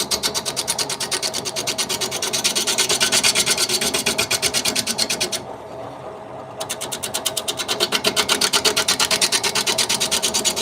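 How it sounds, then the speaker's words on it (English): A half-inch bowl gouge cuts a wooden hollow form spinning on a lathe, giving a steady, rhythmic rasping scrape that runs close and continuous, with one short pause partway through and no talking. "this is like a 1/2-inch bowl gouge. Helps clean it up."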